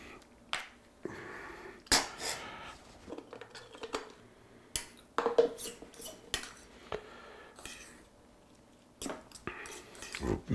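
Metal cutlery clinking and scraping against a dish while mustard, salt and pepper are stirred into a paste for a 1930s household sandwich, irregular close taps and clicks with quiet pauses between strokes.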